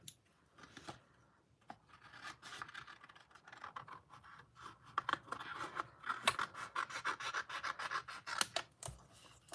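Scissors cutting out a stamped paper image in a papercraft session, a steady run of soft snips and paper scratching up close, quiet and with no voice.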